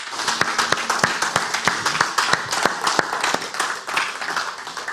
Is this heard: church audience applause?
yes